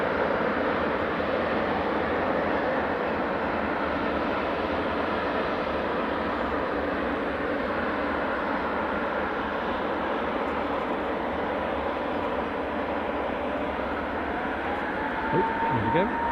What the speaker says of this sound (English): As soon as our EasyJet starts rolling, we'll cut away